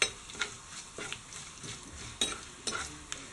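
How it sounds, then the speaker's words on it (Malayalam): Curry leaves and dried red chillies sizzle and crackle in hot oil while being stirred, with soft scraping of a spoon against the pan and a few brighter pops, steady and close, no voices. "ഇനി ഇതിലേക്ക് കറിവേപ്പില ഇടുക. ഉണക്കമുളക് ഇട്ട് കൊടുക്കുക."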